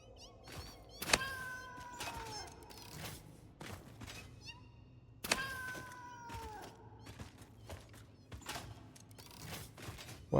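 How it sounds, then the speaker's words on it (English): Cats meow repeatedly in the Satisfactory game, several drawn-out mews rising and falling over a quiet background, with soft thumps between them. "Hearing meows."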